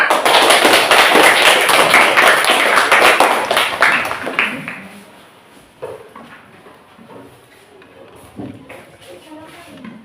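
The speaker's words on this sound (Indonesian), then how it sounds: "Beri tepuk tangan anak-anak." Children clap together in a classroom in a loud, dense burst that lasts a few seconds and then stops, followed by scattered taps and quieter talking.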